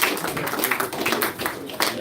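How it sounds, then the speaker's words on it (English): An audience at a live event applauds, a steady patter of clapping from many hands, moderately loud and continuous across the moment. "A big round of applause."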